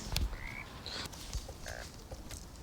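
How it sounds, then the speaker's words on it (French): Frogs croak in a video game set at night, with several short croaking calls scattered through a background of ambient game sounds, moderately close and not very loud. "Oh, on a les grenouilles."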